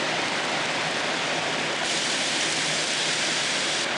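Heavy rain pouring down during a severe thunderstorm in New York City, a dense, loud, continuous hiss with no pauses and no talking.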